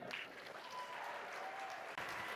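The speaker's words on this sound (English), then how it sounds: "big round of applause for Mr. Mike Holmes" An audience gives a steady round of applause at a talk, a continuous even spread of clapping heard from some distance, with a faint voice briefly audible.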